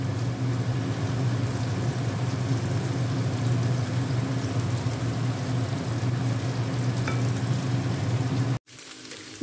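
Chopped onion and eggplant fry in a pot, giving a steady, dense sizzle that holds for about nine seconds before a brief cutoff near the end, with no voices.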